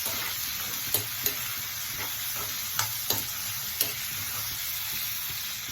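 Drumstick leaves and a small tomato sauté in a pan for a murungai keerai chutney. A continuous hissing sizzle carries a handful of distinct spatula scrapes at irregular intervals, close and moderately quiet.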